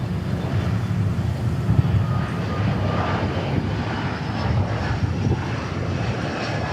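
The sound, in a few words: Atlas Air Boeing 747 jet taxiing at airport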